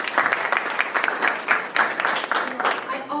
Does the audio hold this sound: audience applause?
yes